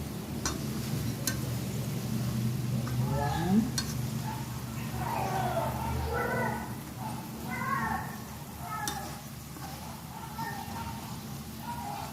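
Peanuts frying in a pan for adobong mani are stirred slowly, with soft scraping and gentle sizzle under a quiet hum; a voice speaks briefly over it.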